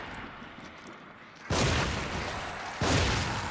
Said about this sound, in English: Oh, double explosions.